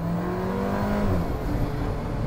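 An Alfa Romeo 4C Spider Final Edition accelerates hard, its engine note rising steadily in pitch as it climbs through the revs, loud and close from inside the car, with no voices over it.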